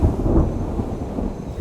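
Thunder rumbling with rain falling on an island, a low rolling roar that stays loud and fairly close throughout the short stretch, with no voices.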